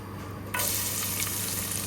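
Onions and chilies hit hot oil in a wok for a spicy Bangladeshi fish dish, setting off a sudden loud, steady sizzle partway through that keeps crackling close by.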